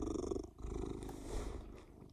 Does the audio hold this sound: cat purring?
yes